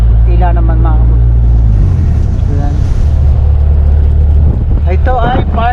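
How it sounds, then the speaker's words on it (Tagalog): Strong wind buffets the microphone during a road trip toward Cavitex in Cavite, a loud, rumbling low roar that runs throughout beneath bursts of a man's speech. "medyo mabilis yung hangin"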